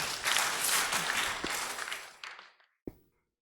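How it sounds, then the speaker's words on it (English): An audience breaks into applause, a brief burst of clapping that swells, then thins out over a couple of seconds into a few last scattered claps before silence. "Give her a round of applause."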